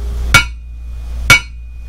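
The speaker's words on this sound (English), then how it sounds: "A good steel will have a bell tone when struck with a hammer." A hammer strikes a steel scuba tank twice, about a second apart. Each hit is a sharp metallic clang with a clear, lingering bell-like ring.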